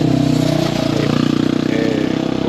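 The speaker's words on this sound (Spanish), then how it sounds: "Ahí pasa una moto." A motorcycle engine rumbles steadily nearby outside an old rural hotel, a loud mid-pitched drone with revving pulses that holds for the whole stretch as it passes.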